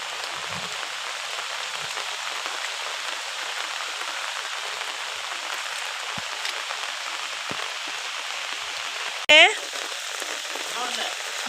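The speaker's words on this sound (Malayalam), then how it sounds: "ഭയങ്കര മഴയാണ്" Heavy rain falls steadily on an evening, a dense, even hiss of drops hitting surfaces that continues without a break, with one brief sharp sound near the end.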